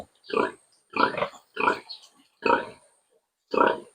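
Piglets grunt and squeal at feeding time in five short, loud bursts separated by brief pauses, close to the microphone with no talk.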